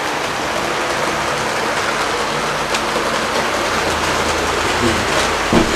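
A continuous whirring rumble of a 12-volt HO gauge model train running along track, steady and close, with a faint clack near the end.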